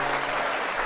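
Recorded applause effect played during a live Italian afternoon broadcast, a dense steady wash of clapping filling the brief moment at even loudness with no voices over it.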